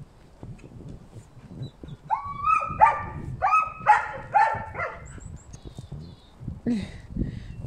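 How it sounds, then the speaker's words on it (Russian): Female dogs barking and yipping excitedly in a rapid burst of high, close calls that fades to a few scattered yips, with some low background noise beneath. "Пустили собачек и не дают"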